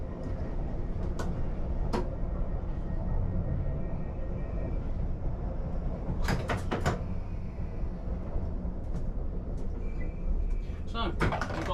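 A London Underground Piccadilly Line train bound for Rayners Lane, heard from the cab in rain, sits with its motor humming steadily while doors thud shut in a few sharp knocks. Spoken announcements play over it.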